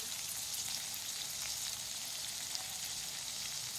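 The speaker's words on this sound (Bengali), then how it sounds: "আলু আর বিনস ভাজতে ভাজতে" Potatoes and beans frying in a pan for chowmein give off a soft, even sizzle, a quiet steady hiss with faint crackles and no voices.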